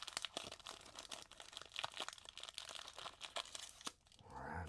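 A 1991 Bowman baseball card pack wrapper is torn and crinkled open, close, fast crackling and crumpling bursts in a quiet room, ending in a softer rustle.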